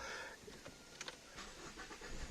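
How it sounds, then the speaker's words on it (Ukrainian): A Ford Focus engine starts up quietly, with a short cranking burst settling into a low idle, accompanied by small clicks and rattles. "Спеціально завожу двигун"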